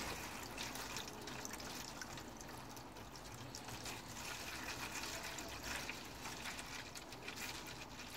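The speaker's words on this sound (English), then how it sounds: "you're going to fill this halfway with rainwater" Steady running rainwater pours into a seed tray, trickling continuously at low volume, a constant liquid hiss with no talking.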